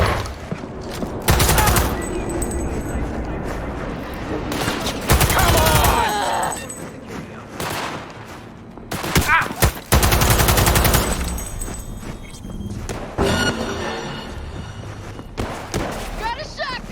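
Repeated bursts of shotgun fire in the video game Cyberpunk, loud booming blasts in clusters with heavy thuds between them, while a voice shouts over the action.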